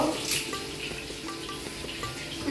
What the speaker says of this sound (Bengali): আমরা এখন আলুটাকে ভেজে নেব